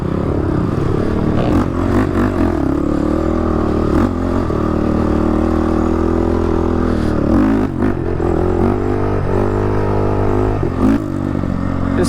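A 2014 Honda 450 dirt bike ripping around an off-road event, its engine droning loud and continuous with rising revs and rough mechanical clatter, close and without talk.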